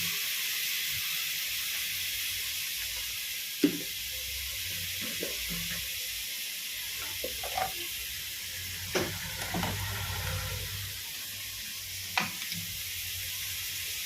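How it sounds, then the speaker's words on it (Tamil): Onion, tomato, salt, two cardamom pods and two cloves sizzle in hot oil as tempering for a mutton curry, a steady loud frying hiss with occasional sharp stirring clicks and spatters, no talking. "இதில் வந்து இப்போ தாளிப்பு கொடுக்கிறதுக்கு வெங்காயம், தக்காளி, கொஞ்சம் உப்பு, 2 ஏலக்காய், 2 லவங்கம் போட்டிருக்கு"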